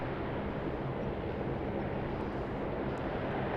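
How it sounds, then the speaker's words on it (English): A Jetstar Boeing 787-8 at Sydney Airport gives off a steady, broad engine roar, moderately loud and unbroken, with no voices over it. "Get out of the way for a Jetstar Boeing 787-8."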